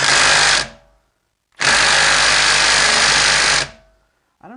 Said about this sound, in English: We're going to use this socket, this torque stick on the mid-torque impact gun.